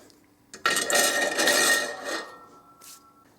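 A spring being fitted into a Moto Guzzi Airone motorcycle fork leg, a single drawn-out metallic scrape and rattle lasting about two seconds, close and fairly loud, then a short faint clink, with no talk.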